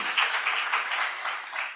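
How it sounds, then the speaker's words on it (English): An audience at a scientific conference applauds, a brief, fairly faint wash of many hands clapping that sounds somewhat distant. "Let's give this young scientist a round of applause"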